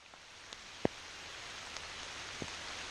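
Rain beginning to fall at an outdoor campsite near a bridge, a soft steady hiss with a few scattered drop taps, one sharper close tap standing out early on.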